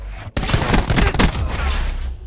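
Dense burst of gunfire in a competitive doubles match of a first-person shooter game, rapid loud shots filling about two seconds after a brief silent gap, with no talking.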